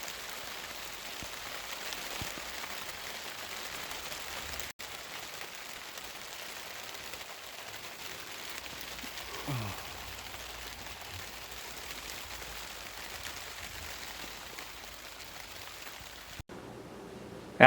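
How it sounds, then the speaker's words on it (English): Steady rain patters on a makeshift tarp shelter outdoors during an elk hunt in Utah, a soft continuous hiss with no voices. "It's raining."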